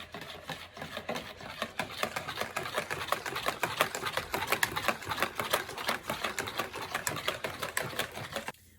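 Strawberries and cream being stirred by hand in a bowl for fresas con crema, a steady run of quick scraping, clicking strokes close up, fairly loud and continuous for several seconds with no talking.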